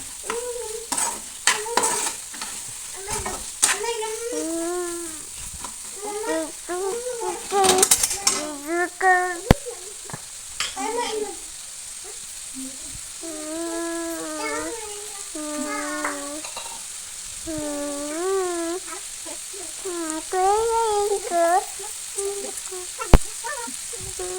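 Mutton frying in a pan, with a steady sizzle under repeated spatula scrapes and clanks against the metal, plus a few squeaky scraping strokes, all fairly close and continuous.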